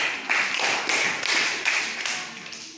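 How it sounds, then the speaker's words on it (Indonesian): Classroom applause from a group of students, a steady patter of hand claps lasting a few seconds, fairly close and even in loudness, with no talking over it. "kasih tepuk tangan"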